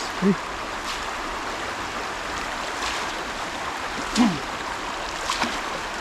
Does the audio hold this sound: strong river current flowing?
yes